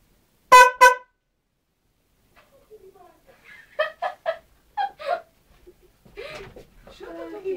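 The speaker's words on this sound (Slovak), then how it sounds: "Trúbu som si kúpil na skúter. Tak skúšam." Two quick, loud scooter horn blasts sound up close, followed by people talking and a few scattered noises.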